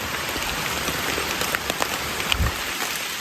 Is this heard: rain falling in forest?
yes